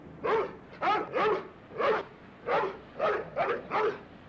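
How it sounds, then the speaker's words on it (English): Guard dogs let loose at night bark in a steady run of about eight evenly spaced woofs, fairly close and clear with no talk over them. "Yes, it's the guard dogs."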